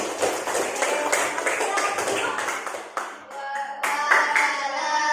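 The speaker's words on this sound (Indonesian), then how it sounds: "masa tepuk tangan untuk kelompok bergerak" An audience in a classroom setting claps for a group of students, several bursts of hand claps with a brief dip midway, voices faintly mixed in.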